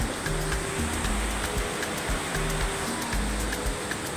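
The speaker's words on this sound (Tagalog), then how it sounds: "umuulan pa, maambon pa." Steady rain falls outdoors on a mountain lot, a dense continuous hiss with low rumbling wind or water noise throughout, no voices.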